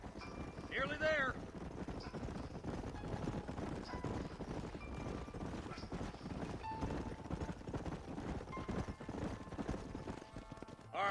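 Horses' hooves clip-clop steadily across open country in Red Dead Redemption, a continuous rhythmic patter under wind noise, with a brief whinny early on and a voice speaking.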